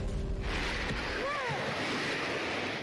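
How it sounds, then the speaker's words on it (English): Tsunami waves surge onto the Tonga coast after a volcanic eruption, a steady roaring wash of water and wind noise with a brief faint voice-like rise in the middle. "Tongans are on the beach to film the first waves hit the coast."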